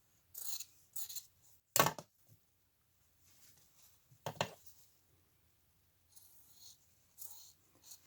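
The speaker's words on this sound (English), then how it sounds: "you can also trim those down a little bit." Scissors snipping the open ends of a fabric face mask with outer and lining layers, a few short crisp cuts spaced apart at close range in a quiet room.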